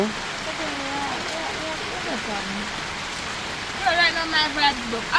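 Rain falls in Jamaica as a constant broadband hiss, with people talking over it and a few louder bursts of voices toward the end.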